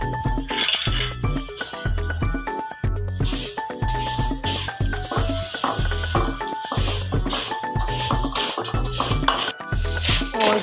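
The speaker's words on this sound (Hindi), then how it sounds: "इसमें ऐड करूँगी सेवैयाँ और इनको अच्छे से मैं कर लूंगी ब्राउन" Vermicelli (sevaiyan) being stirred and roasted in a pan until brown, with a spoon scraping and clinking against the metal in quick, steady strokes that stay close and fairly quiet.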